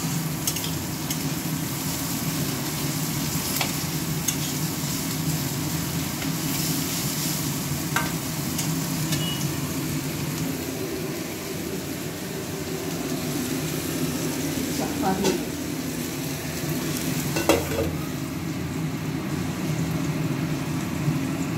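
Breakfast food fries in a pan with a continuous, moderate sizzle and occasional soft stirring scrapes, steady from start to finish.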